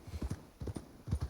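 Horse hooves in the video game Red Dead Redemption 2 clip-clop in three quick, evenly spaced paired beats, close and distinct, with no talking.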